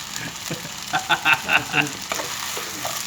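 Noodles stir-fry in a wok with soy sauce and oyster sauce. A loud continuous sizzle runs throughout, with a quick series of sharp metallic scraping and tossing clatters in the middle, and no voices.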